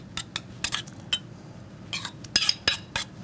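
Beet stuffing dressed with Melfort vinegar is mixed in a bowl, giving a series of quick clinks, scrapes and taps of utensil against dish in uneven bursts with quiet gaps between them.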